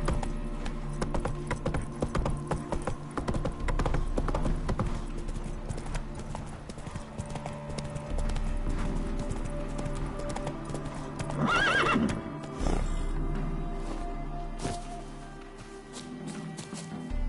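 Horse hooves clip-clop steadily at a gallop in The Witcher 3: Wild Hunt, close and continuous, with a whinny breaking through near the middle over faint game ambience.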